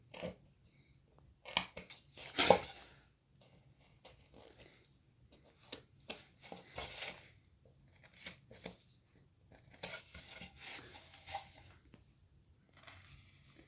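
A chip carving knife slicing into wood on a snowman relief carving, with quiet, scattered scraping and snicking cuts in short bursts and gaps, close but faint.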